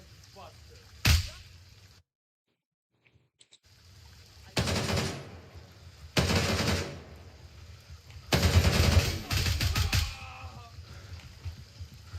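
Gray Zone Warfare gunfire in the video game: loud bursts of automatic weapon fire in several long volleys, separated by a brief silence and quieter gaps, with no voices over the shooting.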